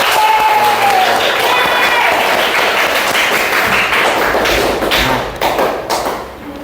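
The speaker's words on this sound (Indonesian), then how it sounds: "Tepuk tangan untuk kita semua." Students in a classroom applaud together after presentations, a loud close burst of many hands clapping with some chatter, fading out toward the end.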